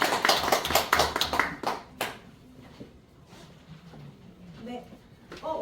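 A seminar audience gives brief applause, a burst of clapping in the first two seconds that fades into room noise and a voice speaking.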